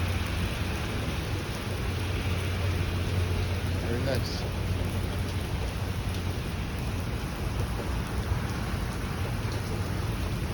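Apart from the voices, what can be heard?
heavy summer rain with thunder, thunderstorm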